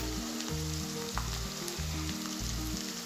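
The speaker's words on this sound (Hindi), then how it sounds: "इनको अच्छे से भून लूँगी मैं" Crushed red chili sizzles in hot oil with aloo gosht masala, a loud, steady frying hiss running throughout, with rhythmic stirring strokes of the spoon scraping the pan.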